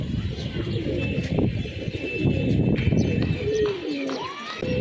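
A flock of young pigeons cooing steadily at close range in a windy outdoor loft setting, overlapping low throaty coos over constant breezy rustle, with occasional higher chirps.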